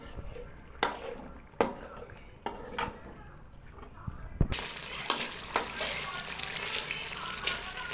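Chicken kasha being stir-fried with a splash of water: a steady sizzle with repeated clanks of a spatula or ladle against the pot, growing louder and busier after a few seconds.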